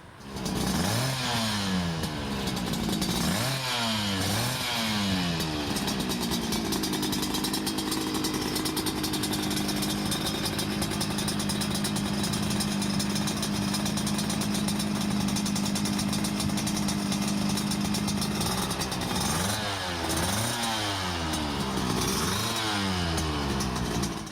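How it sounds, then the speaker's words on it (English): A vintage 249 cc V-twin motorcycle engine runs loud and close, revving up and down in wavering sweeps, holding a steady drone in the middle, then revving again near the end, with no voices. "It had a displacement of 249 cc V-twin engine."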